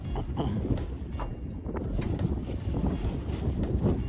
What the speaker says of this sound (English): That wind just might be a little bit too rough.